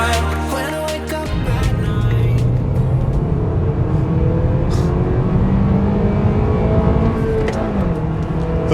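A Toyota Corolla XR with a 2-liter engine accelerates hard, its steady, loud engine note rising in pitch through the gears with continuous road and wind noise, close up.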